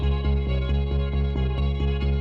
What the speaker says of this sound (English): I recorded the bass line for it.